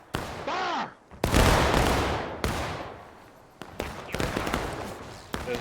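Rifle volley fire in the Civil War game War of Rights: several loud, close, ragged crashes of massed musketry, each trailing into a long rolling echo, with shouted commands in between.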